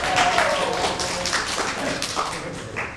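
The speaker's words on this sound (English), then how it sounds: "Everybody give a round of applause to Roxus." Audience applause for Roxus at a Krump history and culture panel in Burncity, a steady broadband clapping wash that holds through the whole stretch at moderate loudness.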